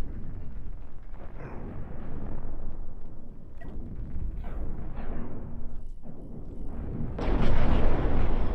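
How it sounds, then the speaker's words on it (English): Cannon hits and explosions from the space-combat game Cosmoteer pound continuously, a dense run of booming blasts and crackling bursts that swell louder near the end, with no talk over them. "Good cannon hit there."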